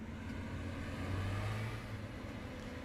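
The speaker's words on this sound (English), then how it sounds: "love the way this tractor sounds" Tractor engine in the Farming Simulator 17 game, running with a steady loud low drone and a brief rise in pitch midway, alone without talk.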